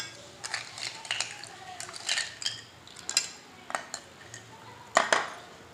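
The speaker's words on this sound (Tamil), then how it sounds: "எல்லா ஃப்ரூட்ஸும் இதில் போடுறோம். போட்டு ஐஸ் க்யூப் போடுறோம்" Cut fruit and ice cubes for a mukkani juice are dropped into a mixer jar, making a run of light clinks, knocks and rattles. They come at irregular moments, close and soft, with one sharper clatter near the end.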